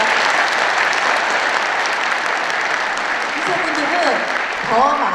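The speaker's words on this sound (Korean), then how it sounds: "예, 여러분 큰 박수 부탁드립니다." An audience at an indoor award ceremony applauds loudly and steadily for several seconds, with a voice briefly rising over the clapping near the end.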